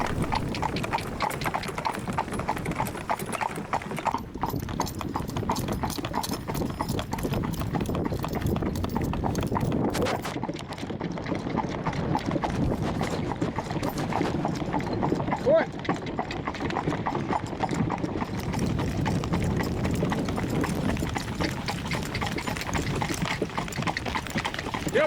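A horse named Lily pulls a trap, a horse-drawn cart, over a mountain gap in Ireland. Its hooves clip-clop in a steady, continuous rhythm close by, and a voice talks at times over the hoofbeats.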